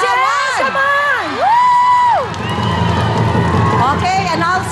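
A studio audience at a game show shouts, whoops and cheers loudly, with high excited voices rising and falling over a constant crowd roar, close and continuous throughout.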